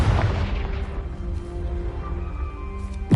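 A Confringo spell exploding in Hogwarts Legacy: a loud booming burst at the start that decays into a long rumbling tail, ending with a fresh hit.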